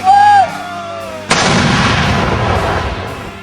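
A single loud, deep blast of Indonesian-made mortar fire erupts after a brief whooping call, followed by a long rumbling echo that slowly fades.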